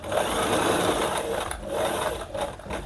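A sewing machine stitches a long straight seam on a shirt, running from the underarm down the side to the hem. Its close, continuous whirring hum has brief slowdowns, with no talking.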